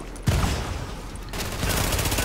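Gunfire in The Division shooter video game, a sharp shot burst followed by sustained loud firing with rattling reports, heard close and dense throughout.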